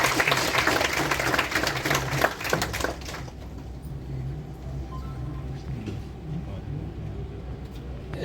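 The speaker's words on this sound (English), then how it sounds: "huge round of applause." Audience applause at the inaugural ceremony of a national-level technical symposium, loud dense clapping for about three seconds that then stops, leaving room hum and low background noise.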